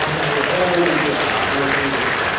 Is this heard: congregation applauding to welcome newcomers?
yes